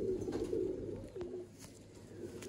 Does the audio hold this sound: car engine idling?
no